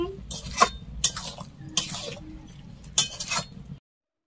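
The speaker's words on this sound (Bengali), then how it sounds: "এরপর আমি অনেকক্ষণ নাড়তে থাকবো।" A coconut and jaggery mixture is stirred in a pan, giving a few separate scraping, sticky swishes spaced about half a second apart over a low, steady background hum.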